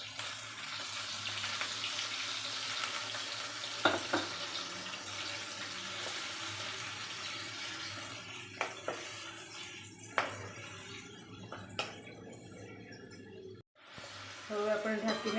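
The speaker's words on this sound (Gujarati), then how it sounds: "અને થોડું આપણે પાણી એડ કરી દઈશું એટલે આપણી ગ્રેવી" Water pours into a pan of cooking stuffed pointed gourd (bharela parval) gravy, giving a continuous trickling, splashing hiss with soft sizzling and a few sharp clinks of utensils against the pan.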